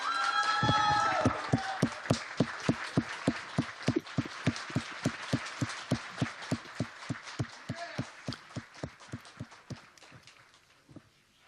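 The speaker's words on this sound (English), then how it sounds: "let's get a big round of applause for EPT Prague 2022 main event champion Jordan Sikuchi" Audience applause at the EPT Prague 2022 poker main event final, honouring the champion: a sustained round of clapping with a rhythmic, evenly spaced beat that tapers off toward the end, with brief voices at the start.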